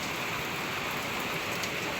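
Steady rain pours down during a heavy downpour over a garden of crops, a dense, even hiss with no breaks.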